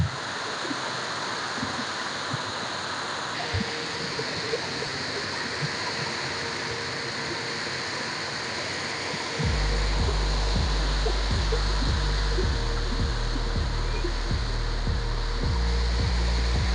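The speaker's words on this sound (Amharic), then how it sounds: "ትንሽ የሚፈስ ውሃ አለ" Water flowing in the Kebena river, a steady broadband rush heard from nearby, with low rumbling thumps growing stronger in the second half.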